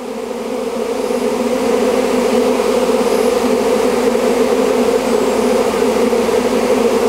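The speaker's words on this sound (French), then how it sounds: "L'essaim ressort de la ruchette." A bee swarm pours back out of a small nucleus hive, making a steady, dense buzzing drone that stays loud and close throughout with no voices.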